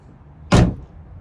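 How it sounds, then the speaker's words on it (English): A single solid thud of a car door shutting, loud and close, with a brief rumble after against a quiet background. "This is the sound of the door closing or opening."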